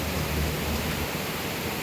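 Meenmood waterfall near Trivandrum, Kerala, roars as a steady broadband rush of falling water, loud and unbroken with no voices.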